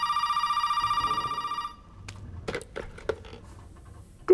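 A phone rings in the horror video game Resident Evil 7, a steady warbling electronic trill lasting under two seconds before cutting off, followed by scattered faint clicks and knocks.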